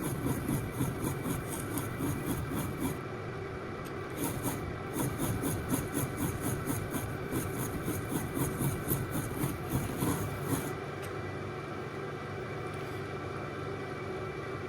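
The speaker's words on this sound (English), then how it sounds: "I'm gonna sit on here and grind on them for a minute" Piston rings for a 408 Mopar stroker engine are ground on a powered grinding wheel, giving a close, steady abrasive whir with rhythmic rasping bursts as the ring is pressed and lifted repeatedly against the wheel.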